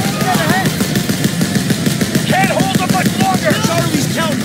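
Rapid, continuous machine gun fire from a jeep-mounted gun in Call of Duty WW2, loud and close, with a dense rattle of shots under shouting voices.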